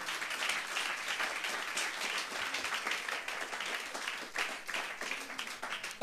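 A church congregation breaks into applause for Jesus, a dense, sustained wash of many hands clapping at steady volume throughout.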